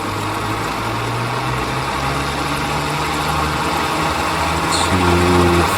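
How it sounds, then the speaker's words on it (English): Engines of a Dornier Do J Wal flying boat in Microsoft Flight Simulator hum steadily as the throttle comes up, a sustained loud drone whose tones shift and rise toward the end. "Let's smoothly accelerate the throttle."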